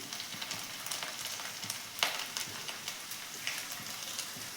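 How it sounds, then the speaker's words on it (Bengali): Ginger-garlic paste hitting hot oil over fried onions in a pan while cooking chicken jhuri kabab, a steady close sizzle with light crackle and a sharper burst near the middle, no talking. "এবারে এর ভেতরে আমি আদা রসুনের পেস্টটা দিয়ে দিচ্ছি।"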